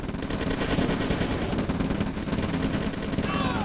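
Units firing in an OpenRA Red Alert multiplayer match: dense, continuous machine-gun-like rattling and crackling gunfire, steady and loud throughout, with a short whistling sweep near the end.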